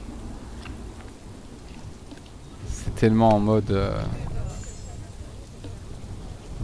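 Rain falls steadily in Planet Zoo over a giraffe enclosure, a soft continuous wash with a low rumble beneath, while someone talks over it partway through.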